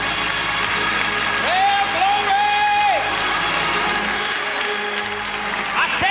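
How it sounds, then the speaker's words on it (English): Audience at a church sermon claps hands together in a loud, sustained burst with some cheering, while a voice calls out over the clapping and held musical tones ring in the background. "Give the Lord a big hand clap, everybody."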